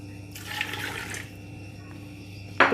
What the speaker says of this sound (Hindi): 1 कप हमने पानी भर के डाल दिया है।